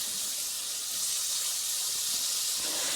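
Butter and meat sizzle in a cast iron fry pan with a steady, close, even hiss that continues throughout without pause.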